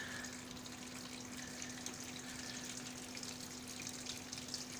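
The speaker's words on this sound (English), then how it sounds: "See, the pump kicks in, and the water comes up the side." Water runs and gushes steadily through pipes while a faint pump motor hum drones underneath in a barley fodder system, a continuous quiet flow with no talking.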